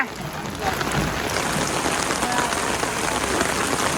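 Heavy rain during a storm in a village drums steadily and loudly on surfaces, a dense continuous hiss with no break.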